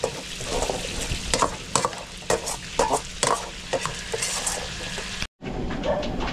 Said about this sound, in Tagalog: Nagpiprito tayo ng bacon bits.